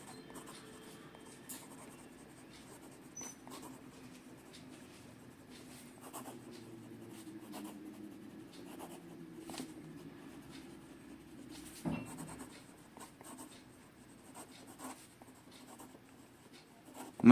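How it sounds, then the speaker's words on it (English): Fast writing with a Jinhao 992 fountain pen on paper: a steady, soft scratching nib rub runs throughout, close and quiet, with brief louder strokes and no voices. "Now some fast writing."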